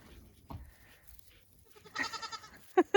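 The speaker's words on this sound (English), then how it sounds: "You gonna get beat up by a goat, Mattis?" A goat bleats in short, wavering calls, followed by two sharp bursts near the end, close by, with faint background noise and no speech.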